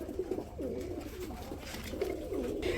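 Sirazi pigeons cooing close by, a few soft, throaty rolling coos following one another in a short quiet burst, with no talking.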